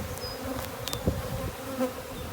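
A steady, dense buzzing of many honey bees swarming close by, with individual insects droning past now and then.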